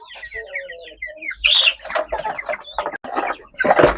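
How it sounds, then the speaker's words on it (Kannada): Ankada country chickens cluck in a busy, overlapping chorus while a rooster calls out among them, close and fairly loud, with a sharp burst of squawking midway. "ಹುಂಜೆ ತಪ್ಪಿ ಒಳಗಡೆ ಹೋದದ್ದು, ಎಲ್ಲ ಗಲಾಟೆ ಮಾಡಲಿಕ್ಕೆಲ್ಲ ಸ್ಟಾರ್ಟ್ ಮಾಡಿತ್ತು."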